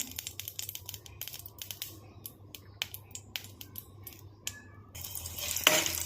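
Cashews frying in a little ghee in a kadai, a faint steady sizzle with scattered light clicks and scrapes of stirring, growing a bit louder and busier toward the end.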